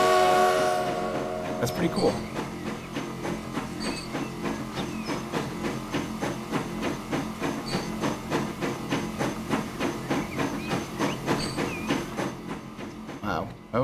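A train in the Transport Fever game leaves a shed and rolls onto the line, opening with a horn and then a steady rhythmic clatter of wheels over rail joints, with someone briefly speaking over it.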